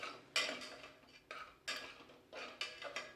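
Beetroot stir-fry with coconut being stirred in a pan, giving a series of soft scraping, clinking strokes at an irregular rhythm, quiet and close with no talking.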